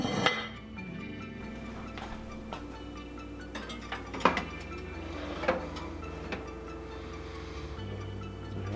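A pot roast pot goes into an Emeril Lagasse Air Fryer 360 oven with scattered close metallic clinks and knocks, one sharper clank midway, over a quiet steady hum.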